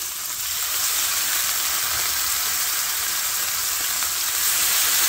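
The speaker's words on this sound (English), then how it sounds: "You're going to be careful because these cutlets are wet. So you can see when they hit that hot oil." Wet pork cutlets frying in hot oil, a loud continuous sizzle with a dense, even hiss that holds steady throughout.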